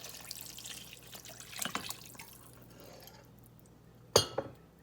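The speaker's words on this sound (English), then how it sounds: "now we're going to add 1 quart of vegetable broth" A quart of vegetable broth poured into a pot of hearty vegetable soup makes a soft, close liquid splashing and trickling, with faint drips and a sharp clink of metal or glass near the end.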